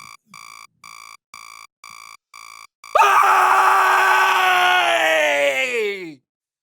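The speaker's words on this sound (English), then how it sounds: "when I wake up in the morning, I have a habit of screaming before I do anything else" A person screams first thing after waking in the morning: one loud, sustained vocal scream of about three seconds that starts abruptly and trails off, preceded by a short run of rhythmic electronic beeps like an alarm.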